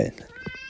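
A house cat meowing in the background: one short, tonal, rising-and-falling meow at fairly low volume, following a brief low murmur at the start.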